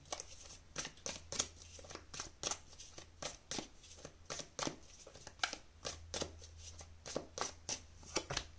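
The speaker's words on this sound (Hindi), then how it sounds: "यहाँ से हम आपके लिए कार्ड और ले लेते हैं फॉर योर फ्यूचर" Tarot cards are drawn and handled close up, making a steady rhythm of soft, papery shuffling flicks that repeat about twice a second over a faint low hum, with no talking.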